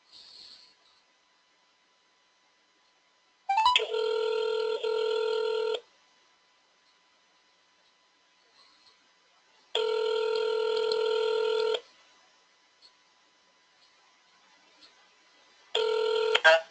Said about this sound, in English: I will call you again on the phone.